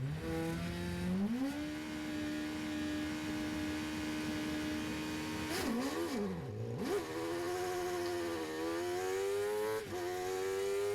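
A Sports 1000 race car engine at a race start at Oulton Park holds a steady high drone, then bogs and dips before the revs climb again, with the in-car engine tone loud and continuous.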